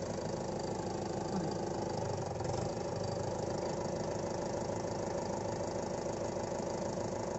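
Mahindra 575 XP Plus tractor engine running steadily, a loud continuous diesel rumble and clatter with no pauses, close to the listener.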